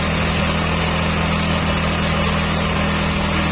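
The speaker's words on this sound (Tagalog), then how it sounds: "Kukunin natin yung pinakamataas na tunog ng makina, yung andar." A Yamaha Mio Sporty scooter engine that had trouble starting runs steady and loud at a fast, even pitch, holding its high buzzing drone without a break.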